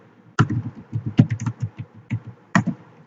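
Typing on a computer keyboard at close range, entering a router RIP command: a run of quick, uneven key taps with a few sharper, louder strokes standing out, no voices over it.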